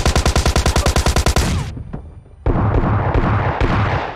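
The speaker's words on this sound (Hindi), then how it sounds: "पहले मैंने ग्रेनेड ही फेंक दिया" Grenade blast followed by rapid gunfire in PUBG Mobile Lite, a loud fast burst of evenly spaced shots up front, then a dip and a dense crackling wash of distant fire.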